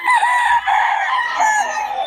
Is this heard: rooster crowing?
yes